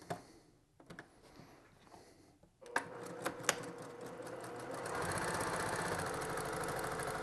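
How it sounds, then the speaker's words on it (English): A sewing machine stitches quilt fabric pieces for a pinwheel quilt, starting with a few short bursts and then running in a steady, continuous hum for the last couple of seconds, fairly quiet and close. "We're gonna come to the machine, and we're gonna go ahead and sew around all 4 sides."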